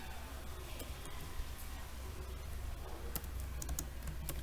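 Typing on a computer keyboard while entering a Cisco access list command, a steady run of quiet, close key clicks with a few sharper taps near the end.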